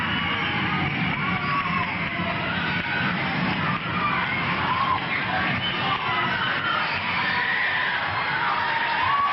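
Wrestling arena crowd at a Tommy Rogers versus TG Stone match, a dense, steady roar of cheering and shouting from a good but not full house, loud and continuous throughout with no single voice standing out.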